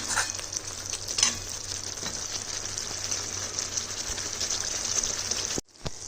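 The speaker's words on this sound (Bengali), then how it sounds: "আমি এই পর্যায়ে দিয়ে দিচ্ছি এই ভেজে রাখা বেগুন কটা" Fried eggplant pieces added back to spices in a pan, a close, steady sizzle with occasional scraping stirs and wet bubbling that cuts off abruptly near the end.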